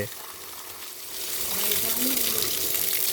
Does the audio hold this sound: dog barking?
no